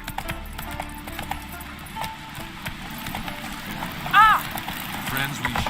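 Horse galloping in The Witcher 3, a steady run of hoof clip-clops heard throughout at moderate level under game music and ambience, with a short whistling rise partway through and talk nearby.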